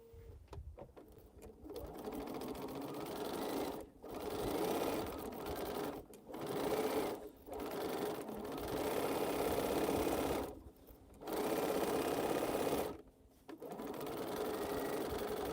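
A sewing machine stitches rows of a cotton quilt together in steady runs, loud and close, stopping briefly between passes at several points.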